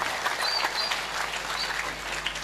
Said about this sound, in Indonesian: Tepuk tangan dengan inovasi ini.